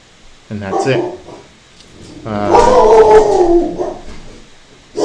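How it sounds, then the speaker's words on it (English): Dogs bark and howl loudly close by, a short burst followed by a longer drawn-out howling stretch, with a voice speaking briefly. "Sorry about my dogs. The mailman must be here."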